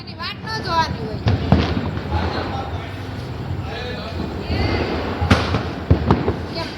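Mirchi bomb firecrackers going off during a Diwali celebration at home: several sharp cracks and pops scattered through the clip, heard over steady background crackle while people talk nearby.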